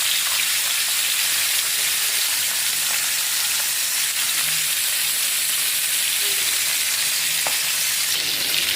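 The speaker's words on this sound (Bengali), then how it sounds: "আমার মাছ ভাজা হয়েছে।" Fish fries in a hot pan for a home breakfast, giving off a loud, continuous hissing sizzle. It stays close and steady for the whole stretch, with only a few small pops and taps.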